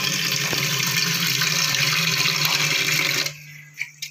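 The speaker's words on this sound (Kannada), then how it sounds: "ನೀರು ಕುದಿಯೋ ಅಷ್ಟರಲ್ಲಿ ವಿಳ್ಯದೆಲೆ ಮತ್ತು ತುಳಸಿನ ತೊಳ್ಕೊಳ್ಳೋಣ." Water runs steadily from a tap as betel leaves and tulsi are rinsed in a home kitchen, a loud continuous splash that stops abruptly near the end, leaving faint clinks.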